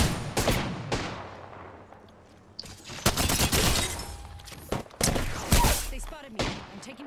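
Gunfire in the video game Apex Legends: several bursts of rapid shots, with a sharp cluster near the start and heavier volleys in the second half, loud and close, with brief voice sounds mixed in.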